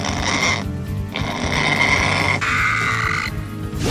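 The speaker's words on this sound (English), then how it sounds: "Did you know that the Zerg are done by pigs?" Pig grunts and squeals used for Zerg creature voices in Heroes of the Storm come close and loud in three rough, snorting bursts with brief gaps.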